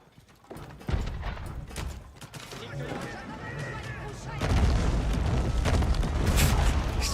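Cannon fire and explosions from a match of the Age of Empires video game, a series of booming impacts with a denser, louder barrage in the second half, under a faint background of voices.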